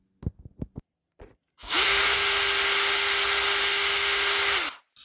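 A power drill bores out a rivet on a Yamaha Banshee clutch basket, one loud steady whine lasting about three seconds, preceded by a few short taps and clicks.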